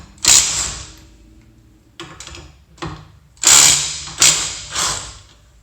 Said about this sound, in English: M18 fuel driver, and it's pretty nice